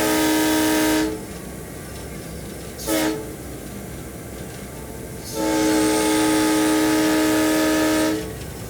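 A locomotive horn on a scenic railway blasts loudly and steadily for about a second, gives a short toot, then sounds again in a long sustained blast.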